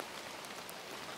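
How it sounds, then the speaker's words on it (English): Steady rain on a hiking trail on the walk back to the truck in Yellowstone, a soft continuous hiss of drops at low level with no other sounds. "a rainy walk back to the truck"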